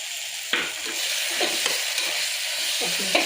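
Pulao mixture with grated coconut is stirred in a hot pan, making repeated scraping strokes of a spoon against the metal over a continuous frying sizzle, with no voices.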